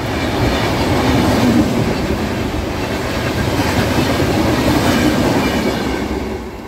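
A passenger train running on rails on a trip to Bolpur Santiniketan gives a loud, steady rumble with a low clatter of wheels throughout, fading slightly at the very end. No voices are heard.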